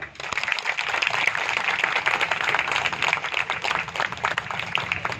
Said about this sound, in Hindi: सारे कोरोना योद्धाओं के लिए तार जोरदार ताली